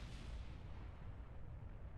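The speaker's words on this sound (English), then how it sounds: "I can see that explosion from here." A distant rocket explosion in Kerbal Space Program, a steady low rumbling roar sustained throughout without any talk.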